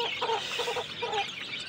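Farm chickens clucking while pecking at bran in the morning, giving short, quiet bursts of clucks in a loose rhythm over a soft hiss, with no voices.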